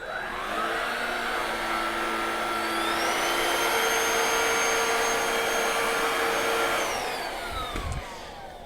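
A cordless vacuum cleaner picks up hair from carpet with a steady, close motor whine. Its pitch rises partway through, and the sound winds down near the end.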